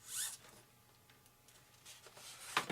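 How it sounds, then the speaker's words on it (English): Tape is stripped off an F-86 RC airplane model in a few quick tearing pulls, one near the start and another near the end, with quiet handling noise in between. "I'll take this tape off"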